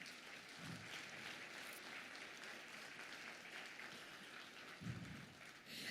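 Audience applause at a community health awards gala, a steady, continuous wash of many hands clapping at moderate distance for the full stretch, with a few brief low thumps.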